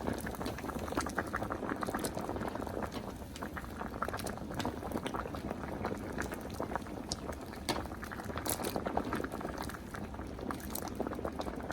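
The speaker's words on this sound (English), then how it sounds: "let them boil on high until they're nice and tender" Potatoes boil in salted water in a pot on a stove set to high, giving a continuous close bubbling and gurgling with dense small pops and no talking.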